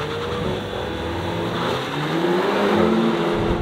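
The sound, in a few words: Corolla GR, Civic, i30N and Leon launching in a drag race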